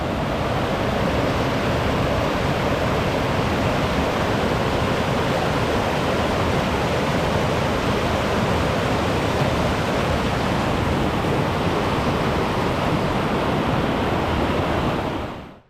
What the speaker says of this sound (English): Like the creek is flowing very well.